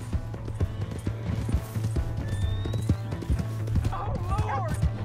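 A horse gallops with rapid, uneven hoofbeats in the video game Red Dead Redemption 2, steady and moderately loud, with a brief whinny-like cry near the end.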